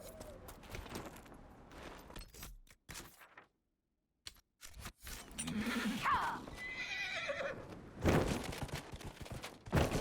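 A horse whinnies in the video game Dragon Age: Inquisition, out in the Hinterlands. A brief silent gap and hoof clops come first, then a loud, rising neigh and more galloping close by.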